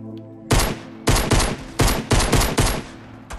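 Rapid automatic gunfire in the Fortnite video game, loud and close, comes in several sharp bursts separated by brief pauses.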